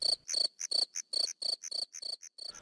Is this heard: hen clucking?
no